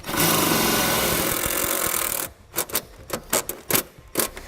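Self-tapping screws driven with a 3/8 socket on a drill while mounting a Roadmaster automatic battery disconnect on a 2015 Chevrolet; a long steady whirring burst is followed by several short, sharp bursts as each screw seats.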